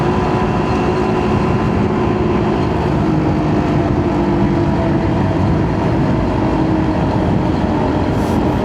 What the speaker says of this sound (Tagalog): hindi ganun kaingay yung motor ko ngayon. Kasi naglagay tayo ng silencer.